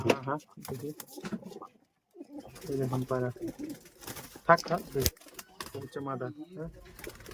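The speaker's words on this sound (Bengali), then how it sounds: "এগুলো গিরিবাজ পায়রা" Giribaz pigeons coo softly in short bursts while people talk nearby, with occasional rustling and a brief quiet gap.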